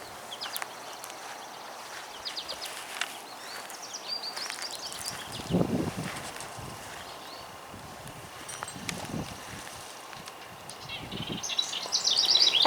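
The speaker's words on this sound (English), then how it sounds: "Oh, the birds are glorious." Birds chirp and sing in the distance in a garden in early May, with scattered rustling and crunching footsteps nearby and a brighter burst of chirping near the end.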